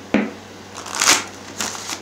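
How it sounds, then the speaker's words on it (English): Love oracle cards are shuffled and flipped during a Leo love reading, giving a sharp card snap followed by soft papery riffles and a second brushing flutter, all close and fairly quiet with no talking. "let's flip some of these love oracle cards for you for Leo"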